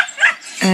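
A single short, high-pitched yip from a small puppy, close and clear, trailing into a brief whine.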